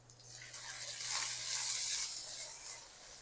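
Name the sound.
spices with white pepper and chaat masala roasting in a pan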